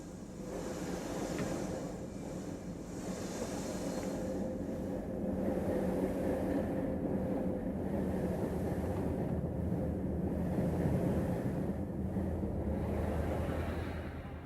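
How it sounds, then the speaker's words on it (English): Rail cars at a station in a steam-era shed, a steady low throbbing engine rumble with broadband hiss and some wind noise, fairly faint and continuous, slowly building as the cars pull away from the platforms. "Rail cars have their motors throbbing and run out of the platforms on their early journeys."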